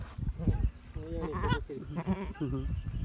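A goat that has just given birth bleats a few times at close range, its wavering cries rising over low background noise and some faint voices, in the Gir area of Gujarat, India.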